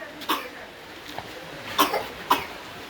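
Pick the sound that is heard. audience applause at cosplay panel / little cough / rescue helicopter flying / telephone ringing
little cough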